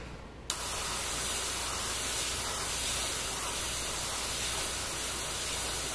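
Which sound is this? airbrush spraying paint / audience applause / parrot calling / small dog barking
airbrush spraying paint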